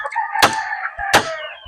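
A two-month-old Basilan rooster crows in a farm coop, giving two short strained cock-a-doodle calls close by, each starting with a sharp burst, alone without talk.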